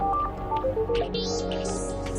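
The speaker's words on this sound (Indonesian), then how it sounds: "Si Ben kenapa juga sih pakai nelfon aku lagi keadaan begini?" A phone rings with an incoming call indoors, a series of short electronic tones stepping through a melody, loud and close, with a low background hum underneath.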